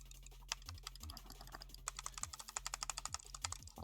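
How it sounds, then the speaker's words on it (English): Crisp, rapid clicks from the switches of an ergo gaming mouse, tapped irregularly at first and then in a quick steady run, close and distinct over a faint background hum. "As you can hear the clicking"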